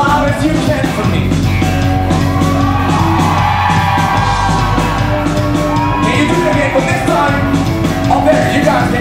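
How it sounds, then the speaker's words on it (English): A large concert crowd screams and yells as loud as it can, a dense, sustained roar of many voices filling the whole stretch without a break. "could you scream as loud as you can for me?"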